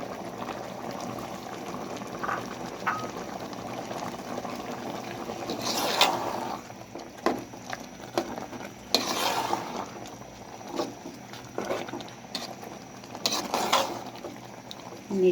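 Olive chutney simmering in a pan, a steady low bubbling broken by occasional scraping stirs and clinks, close and fairly quiet with no talking.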